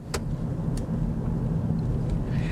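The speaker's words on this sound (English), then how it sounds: "down to third, second, feel the power, third." A Peugeot 3008 with a six-speed semi-automatic gearbox driving, with a steady low engine and road rumble from inside the cabin and a few brief clicks as it shifts down through the gears.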